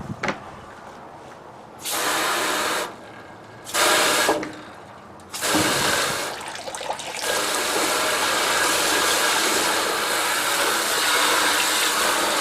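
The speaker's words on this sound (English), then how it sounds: "we'll just spray a little water up in the sluice area and let it run down into this bucket" Water sprayed into the sluice of a dry-wash tailings setup and running down into a bucket, a steady broadband hiss with a few brief pauses early on, then continuous rushing.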